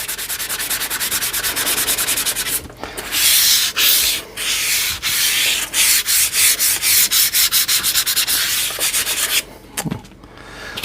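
Vigorous back-and-forth rubbing with 1000 grit sandpaper on the wooden body of a semi hollow jazz guitar gives a loud, rhythmic scratchy hiss in quick strokes, pausing briefly now and then, with no talking.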